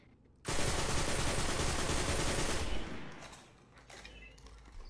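A burst of rapid automatic gunfire rings out loud and sustained from a weapon with the counterbalance perk in the game Destiny, then cuts off into a fading echo and softer follow-up shots.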